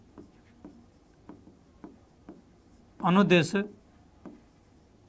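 A pen scratches out short, regularly spaced strokes while working through a maths problem, each stroke faint and close. Someone speaks briefly in the middle.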